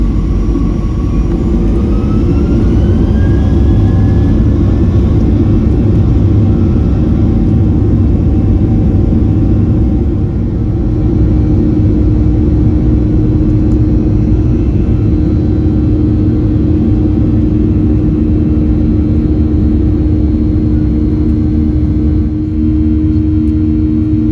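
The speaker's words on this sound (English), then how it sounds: "We've now been cleared for takeoff." Inside the cabin of a Southwest Airlines plane taking off from Denver, loud engine roar and deep rumble fill the whole span while the engine tone climbs and then holds steady, with no voices.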